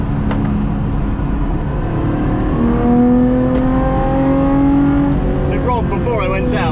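A loud sports car, a Lotus Exige, on the track at Hethel, its engine revving and climbing in pitch as it accelerates, with a strong steady roar and a voice speaking over it.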